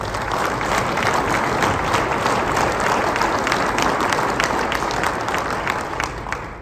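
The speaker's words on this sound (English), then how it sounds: "I would like to lead a round of applause for Duncan's work." An indoor audience at a firefighter resiliency and occupational awareness training event breaks into steady, dense applause that holds loud and unbroken throughout, fading slightly at the very end.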